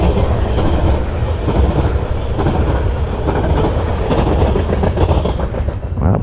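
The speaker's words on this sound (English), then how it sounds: "You just caught your first train." A freight train with pallet cars passes very close: a loud, steady roar of wheels and wind with rhythmic clickety-clack and faint squeals that fill the whole stretch.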